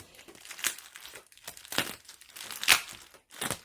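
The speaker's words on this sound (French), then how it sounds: "j'ai reçu le colis et je vais l'ouvrir. Je vais l'ouvrir tranquillement." A parcel is unwrapped, its packaging crinkling and tearing in several close bursts with short pauses between them and no talk.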